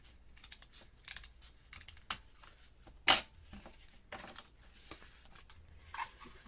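Scissors cut through folded paper while crafting a vase, a close run of quiet crisp snips and rustles with a few sharper louder clicks as the blades close.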